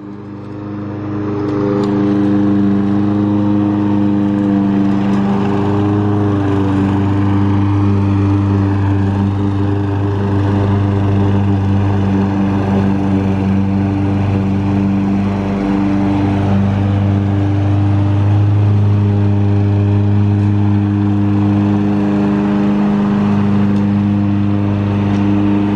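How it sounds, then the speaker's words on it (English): A gas weed whacker runs steadily at close range for about 25 seconds, its engine drone loud and continuous with slight shifts in pitch as it is worked over the grass. "Using the weed whacker."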